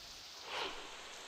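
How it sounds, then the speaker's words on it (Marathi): Heavy monsoon rain in Chiplun, Ratnagiri, near the Vashishti River, a steady wash of falling water that swells briefly midway before settling back, with no voices. "रत्नागिरीमध्ये सर्वत्र मुसळधार पाऊस होतोय."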